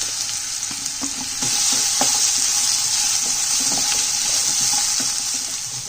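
Cut ripe nendran plantain sautés in a pan for Malabar kaipola, giving a steady bright sizzle broken by scattered clicks and scrapes as it is stirred.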